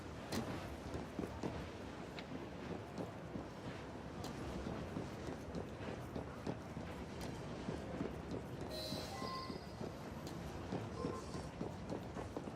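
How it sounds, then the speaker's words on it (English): A slow-moving train in the Victorian London of Assassin's Creed Syndicate, a continuous rumbling clatter of wheels on track with steady rhythmic knocks, fairly loud and close, with a brief hiss of steam near the end. "It's a slow moving train."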